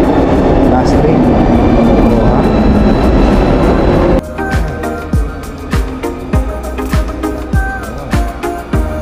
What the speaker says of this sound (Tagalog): Ito na guys, syempre last train.